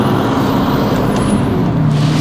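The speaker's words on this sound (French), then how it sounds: "Je suis en deuxième, à 2000 tours, j'accélère." An Aston Martin DB11 V12 pulls hard in second gear from low revs, a loud, dense engine roar close to the microphone, steady and rising without pause.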